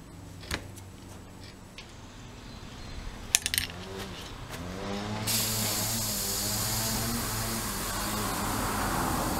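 Pressurised gas vents from an aerosol paint can of wrinkle finish paint, first a few faint ticks and clicks, then a loud, steady broadband hiss that starts abruptly and runs unbroken to the end, with no talking.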